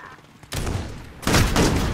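Gunfire in Call of Duty: Modern Warfare during a search-and-destroy match, two loud bursts of rapid close shots about three-quarters of a second apart, the second one more intense.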